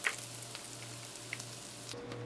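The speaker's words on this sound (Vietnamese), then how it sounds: "Chiên đến khi nào cá chín vàng hay mặt như thế này là được." Round scad fish frying in hot oil in a pan until golden, a steady sizzle with faint crackles and small pops, no voices.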